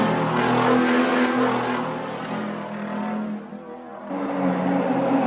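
A 2016 Porsche sports car engine roars loudly, fading a little midway before swelling again, with a steady droning tone and no voices.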